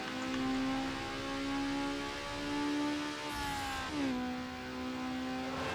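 A Toyota Supra's racing engine in the street-racing video game Need For Speed Underground holds a steady high whine, then shifts pitch as it changes gear, continuous and fairly quiet, with no talking.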